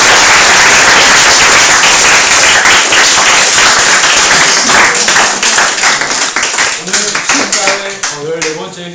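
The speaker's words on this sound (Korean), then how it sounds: "이런 의미 있는 길을 가시다가 지치지 않고 꾸준히 계속하실 수 있도록 힘찬 박수를 보내주시기 바랍니다" An audience at a human library event breaks into loud, dense applause, a thick wash of many clapping hands that gradually thins into scattered claps while voices start up underneath toward the end.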